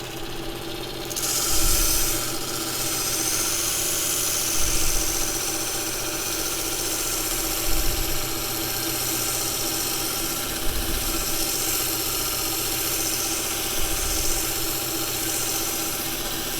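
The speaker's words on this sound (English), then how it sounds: "This belt sander was only 25 quid, I think" A cheap belt sander runs continuously while shaping wooden parts for an O gauge model railway point, a steady loud whine with a few slight surges as the workpiece is pressed on.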